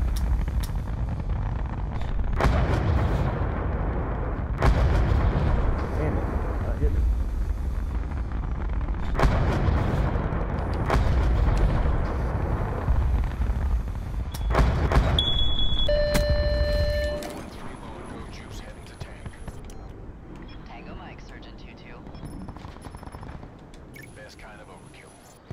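Heavy gunfire and booming explosions in a Call of Duty Blackout match, loud and dense with repeated blasts, under players' voice chat, ending with quieter game sounds after the firing stops.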